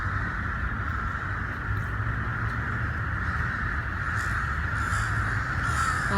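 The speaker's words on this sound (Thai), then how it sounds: "เสียงกา นกกา บิน" Crows caw repeatedly over steady outdoor background noise in Lumpini Park, Bangkok, their harsh calls fairly distinct and continuing throughout.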